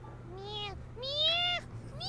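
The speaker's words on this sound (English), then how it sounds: "I push the door open and see Sylus holding a struggling kitty in his left hand" Cat in the Love and Deepspace game meowing three times in rising, drawn-out calls, fairly close and clear over a low background hum.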